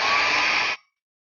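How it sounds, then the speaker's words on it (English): A hair dryer blows steadily at close range on a lace wig, a loud continuous whoosh that cuts off abruptly after under a second, leaving silence. "we're gonna blow dry again"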